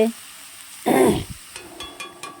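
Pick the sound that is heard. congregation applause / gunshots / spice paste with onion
spice paste with onion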